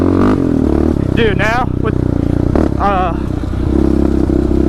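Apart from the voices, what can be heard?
Yamaha Raptor 700 ATV engine revving while riding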